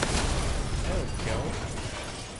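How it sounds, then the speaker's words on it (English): A grenade explodes in the open-world crime shooter Mafia III, heard as a loud, broad burst that rumbles on and fades slowly over about two seconds, with no talking over it. "Let's throw a grenade here."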